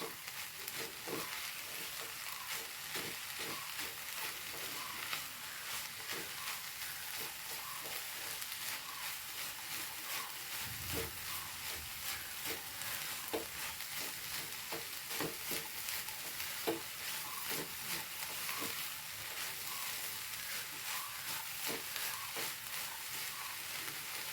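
Egg, chana dal and drumstick leaves frying in a pan, a soft, steady sizzle broken by repeated scraping stirs, quiet and without talk.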